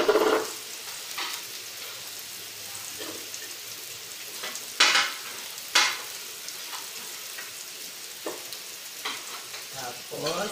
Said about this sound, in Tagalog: Ilalagay natin ang bawang.